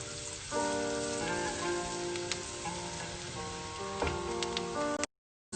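Chopped garlic sizzles in a hot pan of melted fat for fettuccine alfredo, a steady close frying hiss over soft tonal background music that drops out abruptly near the end.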